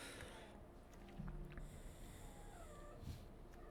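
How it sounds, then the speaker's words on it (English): A kitten gives soft, faint meows and small snorting sniffs close by in a quiet room, the brief cries rising over low background hiss. "I've got a very sooky kitten over there."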